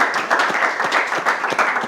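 Audience applause at a school competition show, a steady dense patter of many hands clapping, moderately loud and continuous throughout the short stretch.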